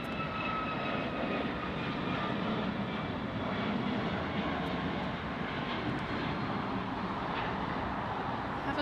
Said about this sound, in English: Now that one is going to Kansas City. It's an A320.